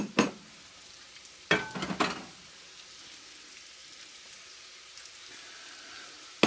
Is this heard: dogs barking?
no